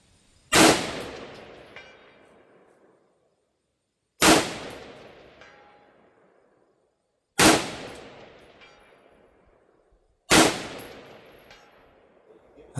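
Four sharp .22 caliber rifle shots ring out at an outdoor range, evenly spaced about three seconds apart, each loud crack trailing off into a short decaying echo, with faint distant impacts on steel plates.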